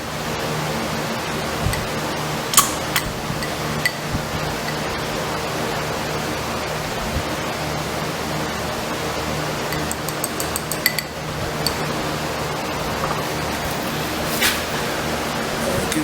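Archoil oil additive pours from a bottle into a container in a steady hissing trickle, with a few light glassy clinks scattered throughout.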